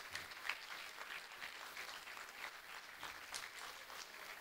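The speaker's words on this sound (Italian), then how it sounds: "Un applauso." Audience applause for sponsors after a teen theatre performance in a hall, a steady wash of many hands clapping at moderate level, fairly distant and continuous throughout.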